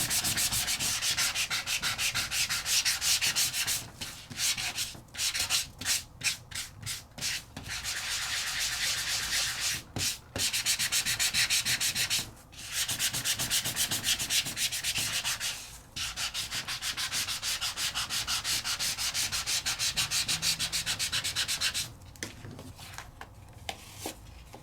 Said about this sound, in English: I could give this just a little bit of a sand